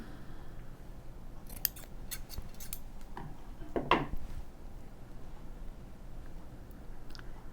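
Scissors snip through white ribbon with gold trim while finishing jewelry, a few soft clicks leading to one clearer cut near the middle, close and quiet.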